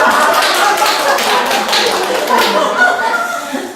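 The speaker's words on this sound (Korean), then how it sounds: "자, 박수 한번 칠까요?" A small group of parents and adults clapping together at a parenting workshop in Paju, a dense, steady patter of hands with some laughter mixed in, continuous from start to end.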